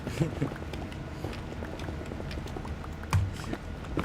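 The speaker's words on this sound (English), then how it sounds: "Why are you naming the skeleton horse Skinny Pete?" Skeleton horse hoofsteps in the video game Minecraft, a light, fairly quick clip-clop of several steps under game background noise, with a slightly louder bump near the end.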